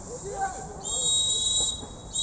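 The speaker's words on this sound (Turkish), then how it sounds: "Hakemimizden ilk yarının son düdüğü geldi." A referee's whistle ends the first half of an amateur football match between Gökkaya FC and AVC İnşaat, sounding as a long sustained shrill blast followed by a shorter second blast over faint crowd noise and talk.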